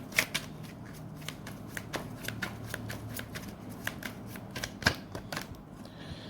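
Tarot cards are shuffled close by in quick repeated riffles, a rapid stream of crisp papery flicks and slaps running the whole length, quiet overall with no speech.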